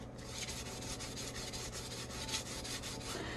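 Sandpaper rubs over the surface of an epoxy-free glitter tumbler in a quick, steady back-and-forth rasp, close and fairly quiet, with no voices.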